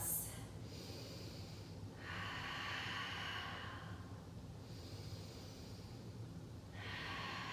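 Several deep, airy breaths come through the nose and mouth at an even pace, each lasting a couple of seconds, close and fairly soft during a held yoga forward-fold pose.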